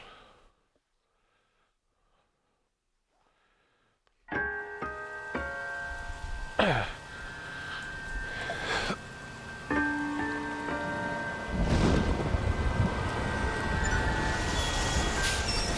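In a video game, after a few seconds of near silence, a steady hiss of rain starts and grows heavier, with sustained musical tones ringing over it.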